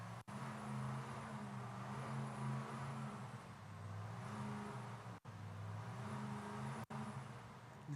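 A Pro-Charger supercharged Chevrolet Silverado pickup engine runs at a steady drone with mild rises in pitch, heard faintly from a distance at an outdoor event.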